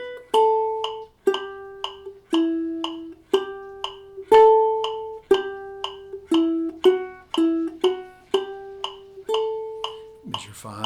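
Guitar picking the intro riff of a song, a steady, bright run of plucked notes that ring and decay in a repeating rhythmic pattern, close and clear with no talking.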